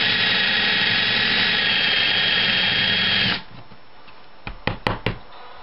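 A power drill bores holes in a head-mounted iPod holder, whining loudly and steadily for about three seconds, then stopping, followed by a few sharp knocks and handling clatters.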